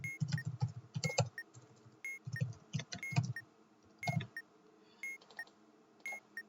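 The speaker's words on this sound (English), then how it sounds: "So now I'm going to type out the alphabet." Letters are typed out in Keep Talking and Nobody Explodes as irregular bursts of close clicking taps with short electronic beeps between them, separated by quiet gaps.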